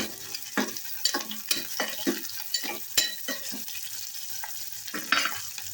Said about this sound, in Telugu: అల్లం వెల్లుల్లి పేస్ట్ వేసిన తర్వాత పచ్చి వాసన పోయేంత వరకు వేయించుకోండి